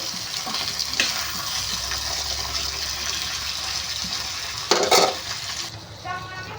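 Bitter gourd pieces fry in a pan with a continuous close sizzle and occasional stirring scrapes, and a sharper clatter bursts out near the end.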